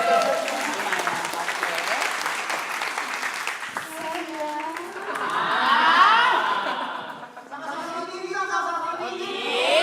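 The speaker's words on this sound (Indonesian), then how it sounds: "Tepuk tangan dulu sekali lagi, tepuk tangan" Clapping from a small group at a birthday celebration, with chuckles and laughter mixed in and people talking and cheering over it, fading into chatter and laughter.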